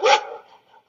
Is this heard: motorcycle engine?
no